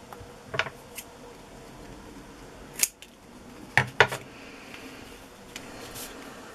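Sharp scissors make a few quick snips in a quiet sewing shop while working with seam binding, with isolated cuts spaced over several seconds against faint background noise.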